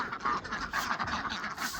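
Several ducks quack steadily and close by on a farm, a busy overlapping chatter that barely pauses.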